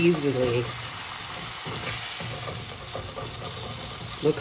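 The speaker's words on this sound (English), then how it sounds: "This is called deglazing the pan." Wine hits a hot pan after chicken has been cooked for chicken marsala, a loud continuous hiss and sizzle as the browned bits lift from the bottom, with a voice speaking over it at the start.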